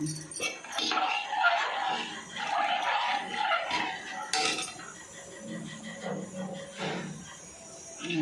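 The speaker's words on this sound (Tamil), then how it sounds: "நல்லா கிண்டிக்கிட்டே இருக்கணும்ப்பா" A spoon scrapes and clinks against a pan as black gram flour is stirred while it roasts, with irregular rattling strokes that come and go over a faint hiss.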